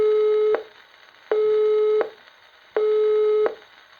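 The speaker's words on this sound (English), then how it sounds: "The engaged tone is a high-pitched note interrupted at regular intervals" A 1930s GPO automatic telephone engaged tone: a steady high-pitched note that sounds in three even bursts, each cut off by a short silence, clear and alone with no talking.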